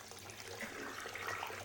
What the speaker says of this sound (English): We'll now fill our sink up a little bit.